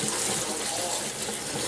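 Salted green tomatoes being rinsed for relish under a steady kitchen tap, water streaming and splashing continuously into the sink at close range, with no talking.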